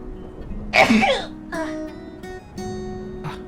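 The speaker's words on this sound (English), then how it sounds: "I'm gonna sneeze" A single sharp sneeze from a young woman indoors, a loud burst followed by her voice talking afterward.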